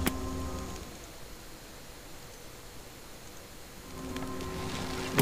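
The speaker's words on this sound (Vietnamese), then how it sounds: "cái cánh quạt gió của cái máy mình kêu to quá các bạn" A PC graphics card cooling fan running during a game gives a steady, soft whooshing hiss, with louder game sounds briefly at the start and end.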